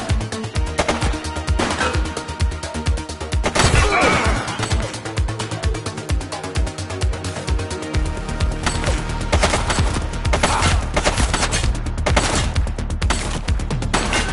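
Dense, sustained gunfire from a police shootout in The Precinct, with rapid loud bursts of shots running through most of the stretch, near and continuous, over a steady game backdrop.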